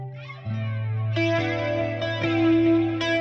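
Guitar run through a Thunderstorm Flanger effects pedal, sustained chords ringing with sweeping, swirling modulation, struck anew several times, loud and clear with no voices.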